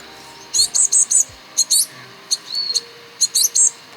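Young birds chirp outdoors in quick bursts of high, thin tweets, several short calls grouped together with brief gaps between them. They sound fairly close, over a soft background hum, with no talking.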